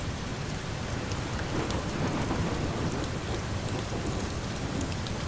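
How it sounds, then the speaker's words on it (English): Steady, dense rainfall pours down without pause, a soft constant hiss with a low rumble beneath it and no voices. "rain falling soft and steady"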